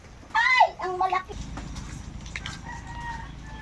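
Native chickens on a farm, a bright rooster-like call at the start followed by short clucks, close and fairly loud, then a low rumble of background noise.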